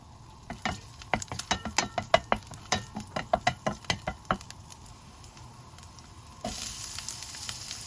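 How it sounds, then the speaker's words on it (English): Garlic sautéing in hot oil in a cooking pan for ginataang manok with papaya, heard as a run of sharp close scraping stirs over a steady sizzle, the frying noise swelling louder near the end with no talk. "Heat oil in a cooking pan. Sauté garlic until golden brown."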